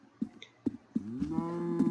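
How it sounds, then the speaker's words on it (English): A Minecraft cow moos in a game scene, one drawn-out low moo after a few short clicks and footstep-like taps, close and clear with no talking. "Check, see if we got another cow."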